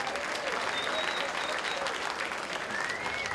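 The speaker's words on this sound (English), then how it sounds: "Give him a round of applause there" Concert audience applauding a guest at a memorial concert, steady dense clapping from a large crowd across the whole stretch, with a few faint whistles and voices mixed in.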